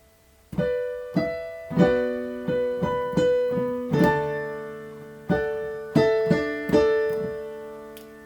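Fingerpicked acoustic guitar playing a passage from a song, a series of ringing plucked notes and chords with a little roll, close and clear with no talking.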